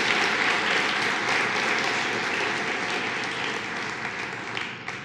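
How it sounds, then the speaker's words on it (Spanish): Audience applause fills a church, a dense, steady wash of clapping that continues throughout and slowly fades near the end, with no talk over it. "Den un aplauso."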